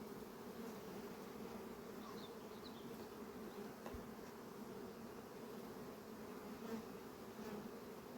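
A steady, dense buzzing of many honeybees fills the air, a continuous hum around the hives with no talking.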